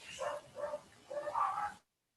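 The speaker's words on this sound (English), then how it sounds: "Your dogs are going ballistic." Dogs barking indoors, a few short faint yaps and barks in quick succession, somewhat distant, then silence.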